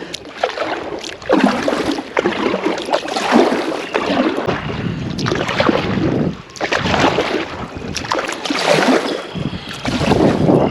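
A kayak pushes through water only inches deep on a windy outing, with repeated surges of splashing and paddle strokes amid gusty wind buffeting the microphone, loud and close.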